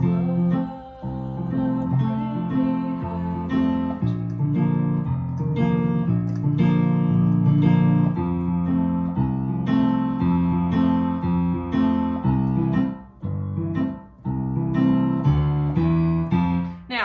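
A piano plays the hymn What A Friend at full tempo in an advanced solo arrangement, with steady rhythmic chords and moving bass lines filling seventeen seconds, close, loud and continuous without any speech.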